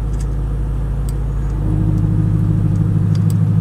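A BMW M3 with a tuned engine and its exhaust valves closed idles with a deep, steady rumble, then rises into a louder, muffled rev that holds near the end.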